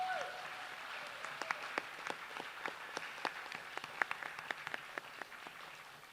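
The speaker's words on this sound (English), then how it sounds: "Can I have a big round of applause for both Juliana and our incredible orchestra?" An audience claps for a dancer and her live orchestra at a Bharatanatyam arangetram recital. The applause is soft and distant, a steady patter with a few sharper claps standing out.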